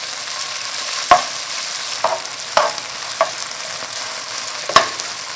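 Chive japchae ingredients fry in a hot pan with a constant sizzle, punctuated by five sharp utensil knocks against the pan spaced about a second apart.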